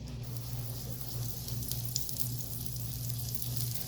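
Butter and oil sizzle steadily in a pan while aloo paratha is cooked, a continuous close hissing fry over a low kitchen hum, with no talking.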